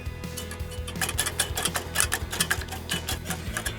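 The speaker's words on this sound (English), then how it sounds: "Now that they're in here, we're gonna mix them well." Eggs and chopped green onions are whisked in a bowl, giving a quick, fairly loud run of rhythmic clicking and tapping strokes with no talking.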